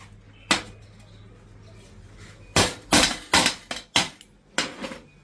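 Sharp metallic hammer blows on an old bearing in a workshop: one isolated strike, then a run of six or so loud, ringing hits in irregular rhythm, close up.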